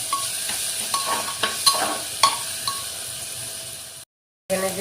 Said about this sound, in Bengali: এটাও অল্প এই তেলের সাথে কষিয়ে নিব